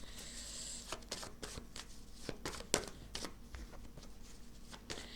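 Oracle cards being shuffled by hand in short bursts of crisp riffling and sliding, close and fairly quiet, with small taps between the bursts.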